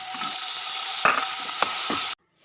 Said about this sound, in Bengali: কড়াইয়ে দিয়ে দিলাম লবণ, সামান্য হলুদ, শুটকি মাছগুলোকে ভেজে নেব।